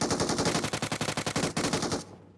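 Rapid machine gun fire in PUBG Mobile, a loud, close burst of evenly spaced shots rattling for about two seconds before cutting off abruptly.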